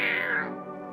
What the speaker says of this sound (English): Check up on the kitty cat. Pet the kitty.